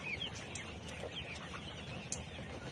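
Layer pullet hens, about 85 days old, cluck softly in a farm shed. The calls are faint and scattered over a steady background of low noise, and no one speaks.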